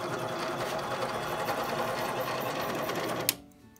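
Harbor Freight mini metal lathe cutting threads, a steady loud mechanical whir running continuously, then cut off abruptly near the end with a brief clunk as the machine winds down to quiet.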